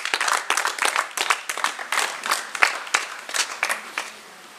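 Cabaret audience applauds in a lively burst of overlapping claps with rhythmic surges, fairly loud and close, tapering off toward the end.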